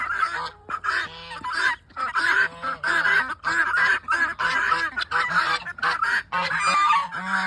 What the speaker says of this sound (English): For those of you that don't have guinea hens, that's the sound they make.